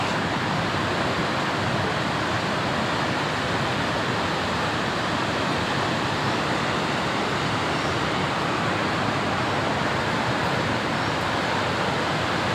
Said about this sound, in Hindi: और कितनी वेग से सरस्वती नदी बह रही है